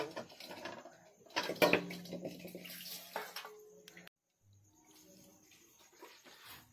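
Clams are rinsed in water in a home kitchen, with splashing and the clatter of shells being stirred, then a quieter stretch of trickling water, while a person speaks nearby.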